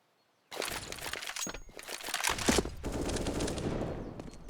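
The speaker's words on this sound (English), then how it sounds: "Shots will ring out." Automatic gunfire in Counter-Strike on the Inferno map during a competitive ESL Challenger League match, dense bursts of rapid shots starting abruptly and continuing loudly throughout, with cracks and rattling layered together.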